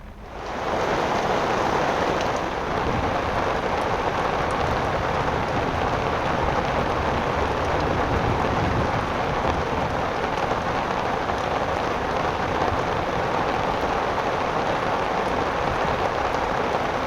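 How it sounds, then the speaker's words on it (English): Heavy rain pours steadily during a windstorm in Hamilton, Ontario, a dense, even hiss that stays loud and unbroken from start to finish with no voices. "a lot of rain"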